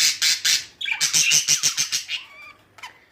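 Budgerigar chicks give a close, loud run of rapid harsh squawks and chirps in a pulsing rhythm, tapering off toward the end with a few fainter calls.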